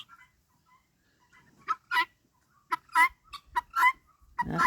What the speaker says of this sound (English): See, the guinea hens aren't always so noisy.